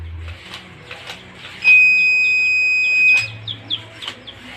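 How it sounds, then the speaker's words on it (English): A car proximity warning alarm gives a sustained high electronic beep for about a second and a half, followed by shorter chirping tones, with faint chatter in the background. "when the car is closer to a certain object in front of it, it will alarm"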